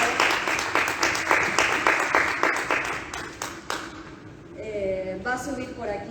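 Audience at a literary marathon event in Aspe applauds a reader, a loud crowd clapping for about four seconds that fades as a voice begins speaking over the tail.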